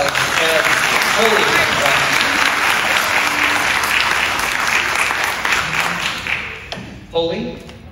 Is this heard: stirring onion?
no